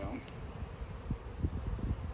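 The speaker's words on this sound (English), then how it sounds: "I got too many bees in here with her" Honey bees hum faintly around an open hive during a mid-June inspection, a low, quiet buzz with soft bumps and handling noises close by.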